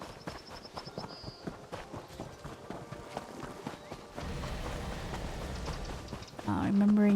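Horse hooves clip-clop along a road in the video game Elder Scrolls Online, a steady rhythmic trot at moderate volume, with game ambience swelling toward the end.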